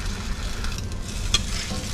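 French toast cooking two slices at a time in a skillet, a close, steady sizzle with a brief louder spit near the end and no talking.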